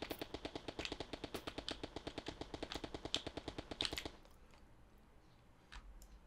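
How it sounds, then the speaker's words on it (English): Rapid-fire gunshots from a Unity third-person shooter game, a dense run of sharp evenly spaced shots for about four seconds, then a quieter tail with a couple of faint pops. "if I shoot towards something with a rigid body, there you go, boom, and I can shoot everything"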